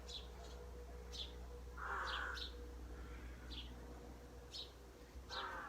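Crows caw outdoors in a quiet morning setting, several short harsh calls spread out at a moderate distance over a low steady background rumble.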